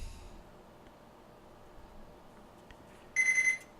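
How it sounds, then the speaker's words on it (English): Near the end, a kitchen timer rings in a short, bright, rapid electronic beeping burst after a long stretch of low, quiet room hiss while pizza toasts. "And there's the timer again."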